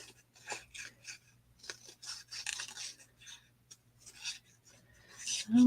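Scissors snip through pieces of paper greenery in a series of short, close cuts and rustles, with a few brief quiet gaps between bursts.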